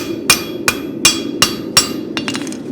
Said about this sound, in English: Now lines are made with a hammer, not with a rasp.